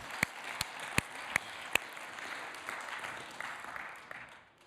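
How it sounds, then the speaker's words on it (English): A church congregation gives a round of applause. Several sharp, distinct claps come first, then a softer, scattered patter of clapping that fades away. "I want you to give yourselves a round of applause"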